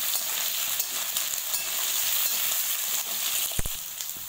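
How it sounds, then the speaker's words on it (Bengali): Eggplant pieces fry in a pan for a vegetarian pui shak chorchori, giving a continuous close hiss and sizzle as they are stirred, with one dull knock of the spatula near the end. "বেগুনগুলো দেওয়ার পরে আমি নাড়াচাড়া করে নিলাম"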